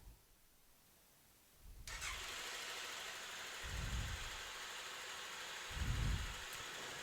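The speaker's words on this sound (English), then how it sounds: "we're going to have to start the engine" A Tracker 600 ATV engine cranks briefly and catches, then settles into a steady idle with a whirring, fan-like hum and a few low surges, fairly close and with no talk over it.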